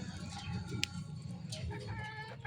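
A two-year-old Golden Boy over Boston gamecock clucks in short, close bursts with a few sharper calls mixed in, set against a faint farmyard background.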